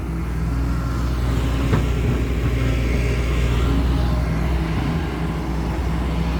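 Farm tractor engine running steadily and loud at close range during work on a rice paddy, a constant low rumbling drone with no pauses.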